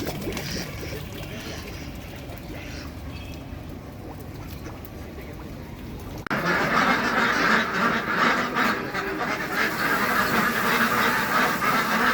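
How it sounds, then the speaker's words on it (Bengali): Ducks quack repeatedly at close range over a constant rushing background, the noise growing noticeably louder partway through. "সব জাতের হাঁসেরই শব্দটা কিন্তু একই অর্থাৎ ডাকটা কিন্তু একই"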